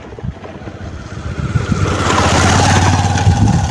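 A motorcycle engine running on a farm track, its low, steady drone building and growing louder as it draws close, with no talking over it.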